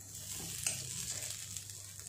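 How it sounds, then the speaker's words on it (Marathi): Grated coconut dry-roasting in a pan until lightly brown, for a spicy prawn curry: a soft, steady sizzle and crackle with light scraping and one sharper stir click, fairly faint and close, with no voices. "खोबरं हलकसं ब्राऊन होईपर्यंत भाजायचं आहे।"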